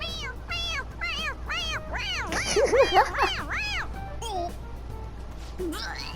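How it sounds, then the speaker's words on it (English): A stuffed toy in Persona 5 Royal gives a rapid series of synthetic meows when pressed on its head, rising and falling in repeated bursts, with a voice speaking partway through and a steady low hum underneath. "It meows when you press on its head."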